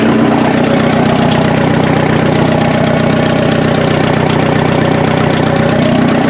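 A rebuilt turbocharged engine in an off-road Mazda idles up close, a loud, steady, rough rumble with a knocking texture that holds level throughout, with no voices.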